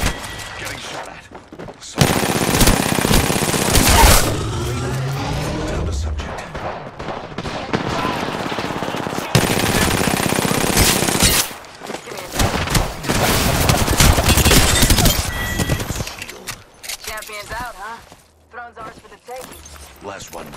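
Apex Legends video game gunfire: dense bursts of automatic shots and booms in a chaotic firefight, with long loud stretches broken by brief pauses, mixed with game sounds and a voice talking.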